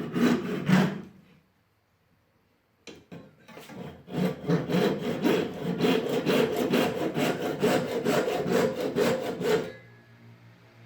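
A small wooden viola saddle blank is cut with a hand saw, opening with a few short strokes, then a pause, then a long run of steady, rhythmic close-up sawing that stops abruptly.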